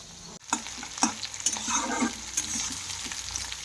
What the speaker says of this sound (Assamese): এতিয়া জিৰাখিনি দিছোঁ ইয়াতে আৰু তেজপাত।